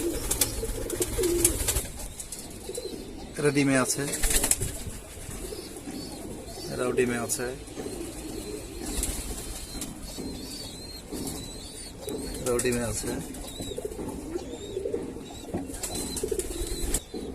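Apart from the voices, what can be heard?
pigeons cooing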